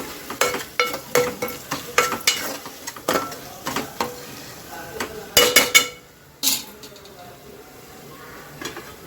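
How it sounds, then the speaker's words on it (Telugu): A spoon scrapes rhythmically through a traditional-style mutton curry with fresh coriander in a pan. Repeated close, loud stirring strokes sound over a soft sizzle, then pause briefly before one last scrape. "వేసి బాగా మిక్స్ చేసి"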